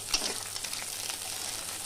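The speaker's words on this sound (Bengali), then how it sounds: "গরম তেলে আমি দুটো ডিম ফাটিয়ে দিলাম আর দিচ্ছি পরিমাণ মতো লবণ এটাকে আমি ঝুড়ি ঝুড়ি করে ভেজে নেবো" Two eggs with salt frying and being scrambled in hot mustard oil in a karahi: a close, steady sizzle with a brief stir scrape at the start, no voices.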